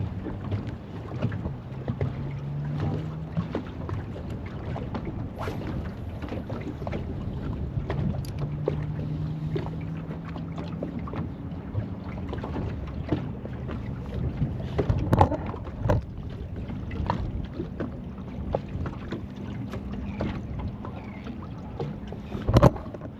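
Outboard motor on a fishing boat in Swansea Channel rumbling steadily with a low drone that wavers in pitch, mixed with wind buffeting the microphone and scattered knocks.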